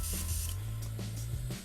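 An airbrush sprays paint in a steady, close hiss with a low compressor hum underneath, a few brief puffs and pulses breaking the continuous flow.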